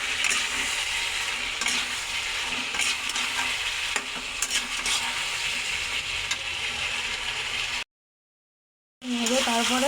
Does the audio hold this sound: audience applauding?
no